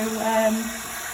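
Water running from a tap into artex mix, a short steady splashing pour that fades toward the end.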